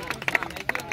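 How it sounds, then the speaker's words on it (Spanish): An audience at a freestyle rap battle tournament breaks into scattered, uneven clapping, mixed with crowd voices and shouting. "¡Tiempo! ¡Un aplauso!"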